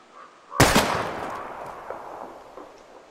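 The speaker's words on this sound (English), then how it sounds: "We're gonna shoot all these bottles without wasting a single bullet." A single loud pistol shot aimed at bottles in Life is Strange. It cracks sharply, then rings out in a long fading tail over quiet surroundings, with no speech.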